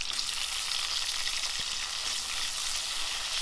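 Onions and tomato sautéing in a pan for tiffin sambar give off a steady, close, continuous sizzle and crackle throughout, with no voices.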